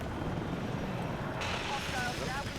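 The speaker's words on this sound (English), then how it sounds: "Enemy helicopter." Enemy helicopter in Battlefield 6 gameplay, a low rotor rumble and engine drone that stays fairly constant and moderately distant, with brief in-game effects and chatter layered over it.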